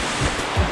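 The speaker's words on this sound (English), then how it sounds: "This is a tiered waterfall," A tiered waterfall at a quiet, non-touristy spot in the Philippines gives a steady, close broadband rush of falling water with a couple of slight surges and no voices.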